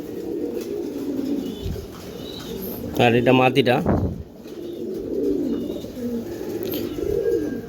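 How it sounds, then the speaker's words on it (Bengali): Giribaz flock pigeons, a pair, coo softly and steadily close by, with a short burst of nearby speech in the middle and a brief flutter of wings. "এই আর এক পেয়ার কবুতর এটা ছাড়াছাড়ি লাইনের এক পেয়ার কবুতর ঝাঁক কবুতর"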